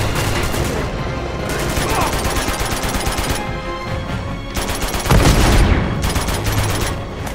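Sustained bursts of AK rifle fire in Uncharted 2, loud and continuous with brief lulls, dense rattling volleys and a heavier blast near the end, with other combat noise around it.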